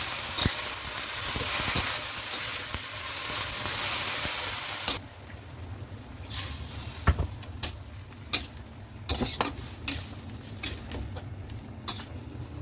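Eggplant stir-frying in a pan: a loud, dense sizzle that drops sharply as a little water is added. Afterwards there are quieter bubbling and spatula clacks and scrapes, close up, with no talking.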